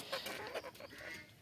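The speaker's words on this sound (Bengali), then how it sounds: "কত সুন্দর মোরগটা দেখুন" A five-month-old desi rooster gives a few soft, quick clucks nearby, quiet and brief against a faint background hiss.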